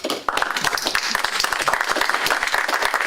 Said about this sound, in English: So let's applaud them.